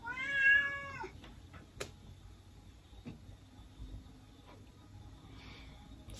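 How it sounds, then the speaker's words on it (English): A female cat in heat lets out a long, loud, drawn-out meow at the start, followed by quieter room noise with a few faint clicks and knocks. "When your cat's in heat, and she won't stop meowing"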